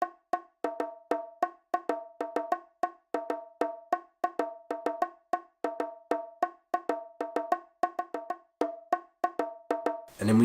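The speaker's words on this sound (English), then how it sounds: "I played these very simple kind of congas and bongos." Simple conga and bongo pattern from a pop kit, crisp hand-drum hits repeating in a tight looping rhythm, dry and alone, with a brief burst of another sound at the very end.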